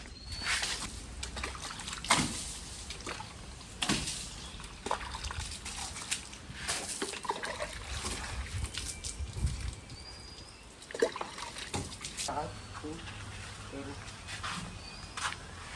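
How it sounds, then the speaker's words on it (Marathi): Water splashes and trickles in uneven bursts over a car being washed outdoors in the Konkan region, with runoff dribbling between the louder dousings. Someone talks over much of the splashing. "जरा पाणी मारून घेतो."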